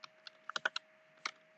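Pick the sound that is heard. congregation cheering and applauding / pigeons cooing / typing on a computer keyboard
typing on a computer keyboard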